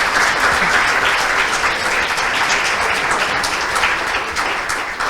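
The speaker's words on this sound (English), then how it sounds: "I want you to give a round of applause to the students of Oasis who are here," Sustained applause from an audience at a business breakfast briefing, greeting visiting students; dense, steady clapping fills the whole stretch with no break and no talk over it.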